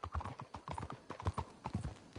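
Horse hooves clip-clopping in the video game Red Dead Redemption 2, several horses walking with a steady, overlapping patter of hoofbeats, fairly close and continuous.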